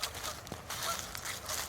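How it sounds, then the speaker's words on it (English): A small flock of geese honks in a few scattered, moderately distant calls along a busy nature trail on a Saturday, against a steady outdoor background. "A little flock of geese over here."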